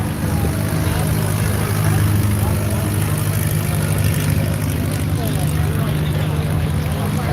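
A Super STOL propeller aircraft taxis on the step at an airshow, its engine a steady, continuous drone held at constant loudness throughout, with voices talking over it.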